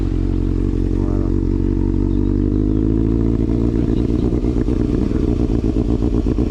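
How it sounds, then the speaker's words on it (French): A Honda CBF 600 N inline four-cylinder motorcycle engine runs close by, a steady dense low hum with a smooth idle that rises slightly, with light mechanical clatter and no talking. "on peut voir que c'est un beau petit bruit, 4 cylindres en ligne."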